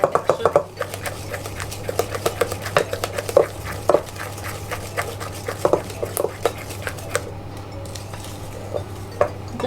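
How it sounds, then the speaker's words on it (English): Oat, raisin and fudge cookie dough being stirred in a bowl, with repeated scraping clinks and knocks of a utensil against the bowl in an uneven rhythm over a low steady hum. "just mix that all in together so it's all nice and mixed"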